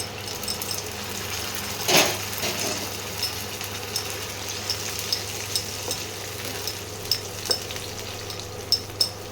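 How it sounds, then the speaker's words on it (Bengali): Tomato paste frying in a pan, a continuous low sizzle with a scrape of stirring near the start and scattered spits and pops through the rest, no speech. "এই টমেটো বাটাটা একটু মানে ভাজা ভাজা একটু কষাতে হবে"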